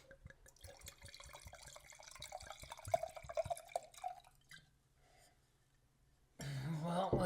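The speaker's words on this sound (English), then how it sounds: "let me give you a good pour" A drink being poured, a light trickling and dripping stream for a few seconds that fades into quiet, then a louder broadband rush near the end.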